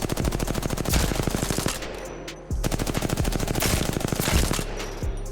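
Rapid automatic gunfire from a weapon in Apex Legends, loud sustained bursts of evenly spaced shots with short pauses between strings, heard alone without talk.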